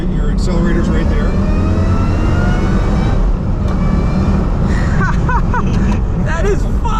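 A 500HP Ford Mustang Terminator engine revs loudly during a downshift from inside the cabin, with a rising, swelling roar and blips that sit under continuous conversation between the occupants.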